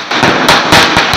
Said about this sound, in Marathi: शिवसैनिकांनी आनंदोत्सव साजरा करीत फटाक्यांची आतिषबाजी करून